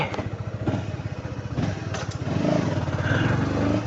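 A Suzuki Samurai motorcycle engine runs close by with a rapid, even putter, then a modest rise in revs that stays well short of redline.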